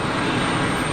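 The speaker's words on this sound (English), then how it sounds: "Very solid looking aircraft, that thing." Airplane at Geneva Airport, a steady broadband engine roar that stays loud and even throughout, with no talk over it.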